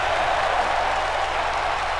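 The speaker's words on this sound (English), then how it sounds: "The crowd in El Paso, the home of Eddie Guerrero, going crazy tonight." Steady crowd roar in an El Paso arena in the WWE 2K wrestling video game, a dense continuous wash of cheering with no breaks, moderately loud throughout.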